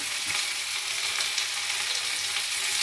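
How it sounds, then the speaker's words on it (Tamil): Mint and coriander leaves sautéing in a hot pan for a tomato chutney, a bright continuous sizzle heard close up with no voices. "எல்லாத்தையுமே நம்ம நல்லா வதக்கிக்கணும்"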